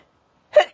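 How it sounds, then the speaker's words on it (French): A single sneeze bursts out after a moment of silence, sharp and close, followed by the start of another short breathy sound at the very end. "Je vais éternuer."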